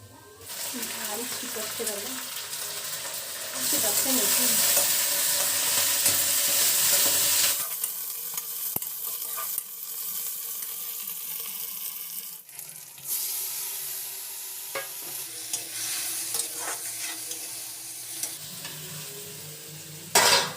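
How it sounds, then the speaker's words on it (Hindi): Hot oil sizzles loudly as cumin seeds are dropped in, a bright crackling hiss that then settles into quieter frying with occasional stirring clinks and a voice. "तेल गरम हो गए तो एम जीरा के फोरन दे देबो"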